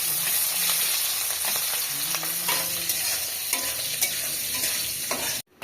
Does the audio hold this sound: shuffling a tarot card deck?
no